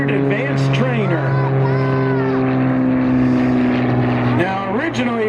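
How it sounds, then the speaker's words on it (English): A vintage Luftwaffe standard advanced trainer plane flies aerobatic point rolls overhead, its engine a sustained droning tone that shifts pitch as it maneuvers, loud and continuous throughout. "The airplane was highly maneuverable"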